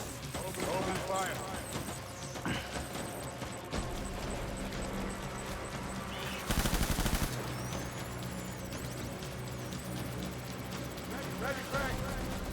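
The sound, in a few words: BB guns being fired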